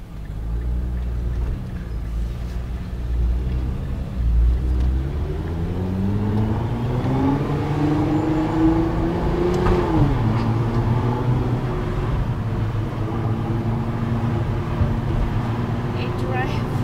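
Prior Design PD750 Widebody Nissan GT-R accelerating from inside the cabin, a loud steady engine drone rising in pitch through the gears with a shift near the midpoint, with occasional talk over it.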